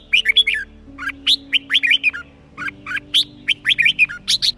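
A red-whiskered bulbul sings close and clear, a quick run of bright, chirpy whistled phrases in bursts with short pauses between them, with no voices present.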